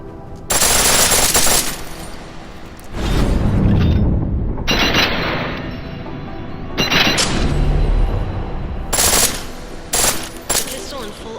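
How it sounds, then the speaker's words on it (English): A pistol fires in full auto in the video game Deus Ex: Mankind Divided, with loud rapid bursts of gunfire in several separate volleys and short pauses between them, close and alone. "The pistol in full auto will take down targets fast, but it'll burn through your ammo."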